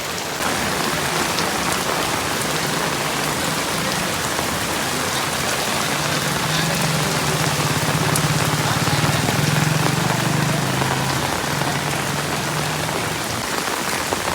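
Heavy rain pours steadily in a Tamil neighbourhood of Kasi, a loud, dense, continuous hiss of drops striking surfaces, close and unbroken throughout, with a faint low hum in the background.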